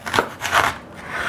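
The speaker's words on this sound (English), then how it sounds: "so we cut it in half." A slightly dull knife slicing a vegetable in half, giving two or three short, soft crunching cuts close up.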